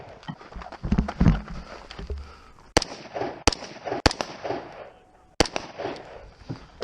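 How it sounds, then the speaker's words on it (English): Rifle shots at targets on a shooting competition stage: sharp, loud cracks come one at a time at irregular intervals, with some quieter clatter and rustling early on. "the shooter engages 2 rifle targets from each of the 3 hula hoops"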